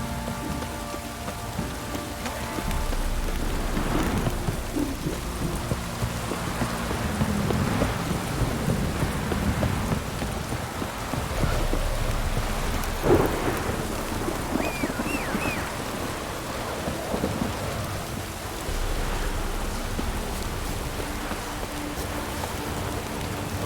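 Steady rain pours down in The Witcher 3, a dense continuous hiss on surfaces with low rolls of thunder rumbling now and then, no voices over it.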